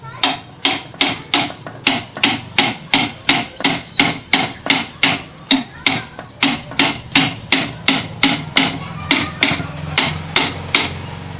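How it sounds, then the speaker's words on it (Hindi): Steady, evenly spaced hammer strikes, about two or three per second, seat a pedestal fan's cover into place, each blow a sharp close knock with no talking. "बहुत ही एहतियात से इसे चोट देना है दोस्तों"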